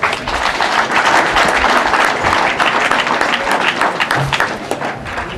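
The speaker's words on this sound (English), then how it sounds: "Can we clap hands for ourselves?" An audience claps at a school prize-giving day, broad steady applause filling the whole stretch at close range with no voices over it.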